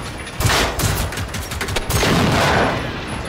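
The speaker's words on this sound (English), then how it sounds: "I should probably shoot that." Rapid bursts of gunfire ring out while shooting machines in the video game Generation Zero, loud and dense, with a short lull in the middle before another sustained volley.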